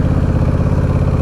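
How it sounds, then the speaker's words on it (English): A motorcycle engine idles at a high, hanging speed, its steady close-up thrum pulsing in an even rhythm with a light mechanical clatter, alone without talk. "See, hear the engine hanging? It's hanging high."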